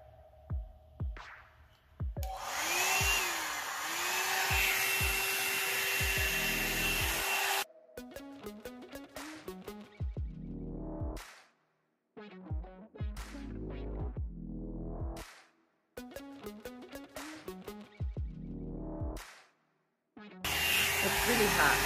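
A GEM hot air brush blows hot air in a loud, steady rush, cut off in bursts between stretches of rubbing and handling noise.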